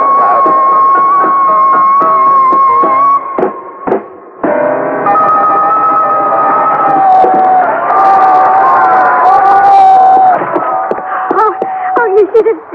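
A hometown crowd's cheering staged as a sound effect for an old radio drama, loud and sustained with a wailing, tonal edge, briefly dipping before surging again.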